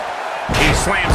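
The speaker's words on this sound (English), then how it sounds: "Slams him down with authority." A wrestler's body slam in a WWE wrestling video game lands as one loud, heavy thud with a crowd-like roar, abrupt and close, following a quieter steady background.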